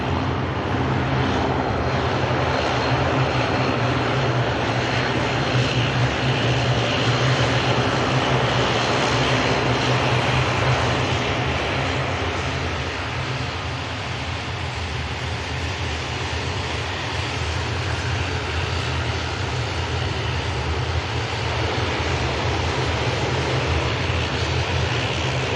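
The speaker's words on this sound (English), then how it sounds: "Lovely heavy departure coming up." A heavy airliner takes off at Manchester Airport, its engines giving a loud sustained roar with broad rumble that holds steady for the whole stretch and eases only slightly midway, with no voices over it.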